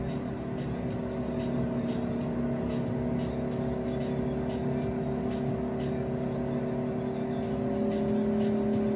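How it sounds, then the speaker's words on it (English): Car engine in a driving video game, a steady sustained drone with a continuous hum held at a constant level throughout, no talk over it. "Drive, Jackie, just drive."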